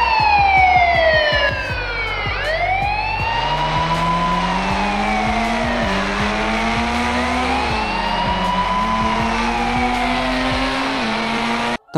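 Police siren on an XUV in the Indian Bikes Driving 3D mobile game, a loud continuous wailing tone that sweeps up and down for the whole stretch over steady engine drone, with no voices.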